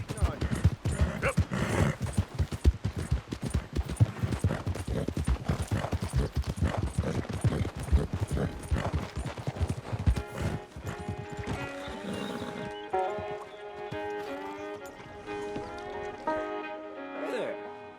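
Horse hooves clip-clopping in quick, steady rhythm in Red Dead Redemption 2, close and loud with a brief whinny, then giving way to a game music sting with chime-like tones as the hoofbeats fade.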